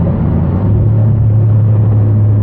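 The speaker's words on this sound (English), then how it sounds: "I'm just gonna downshift." A straight-piped Volvo S80 V8 drones with a deep, loud, steady exhaust rumble from inside the car as it slows for a curve, no voices over it.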